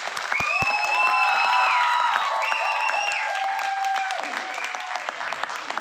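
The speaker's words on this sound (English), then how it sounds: "One big round of applause for the movie Chithaa." Audience applause at the premiere of the film Chithaa, a sustained wash of clapping under tonal music or voices, steady and fairly loud before tapering slightly.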